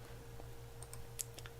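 Keys on a computer keyboard are tapped faintly in a few scattered clicks over a low steady hum.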